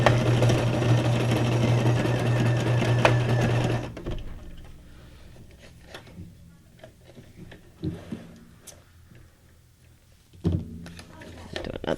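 A sewing machine runs a straight stitch across a small paper tag for a junk journal, a dense, close whirring for about four seconds that stops abruptly, followed by quieter handling noises and faint talk.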